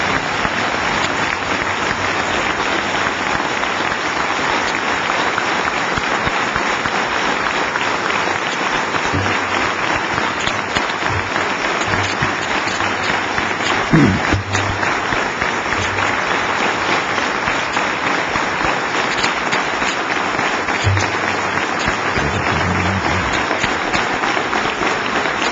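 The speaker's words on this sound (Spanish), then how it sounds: "Aplaudan ahora a su gente." A large crowd at the Cuban National Assembly applauds continuously, dense clapping sustained and loud for the whole stretch without pause.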